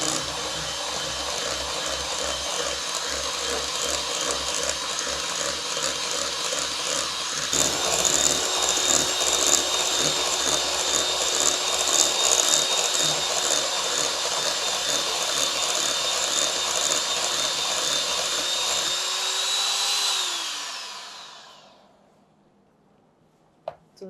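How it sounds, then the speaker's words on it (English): Electric hand beater whirring through chocolate oil cake batter, a loud continuous motor whine that steps up in speed partway through, then winds down to silence with a final small click. "I'm going to use the hand beater."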